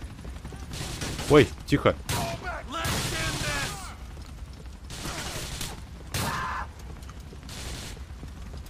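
Shotgun blasts from a gun battle in GTA 4 The Lost and Damned, a few sharp loud bursts near the start followed by continuous game noise, engine rumble and a later crash, with someone talking over it.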